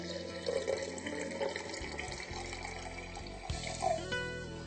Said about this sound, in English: So I'm going to go ahead and add water to my seeds.